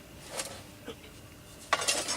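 Light metallic clinks and clatters of a Kelly Kettle camping cook kit, including a frying pan, being handled, a few separate touches followed by a brighter rattle near the end, close and fairly quiet.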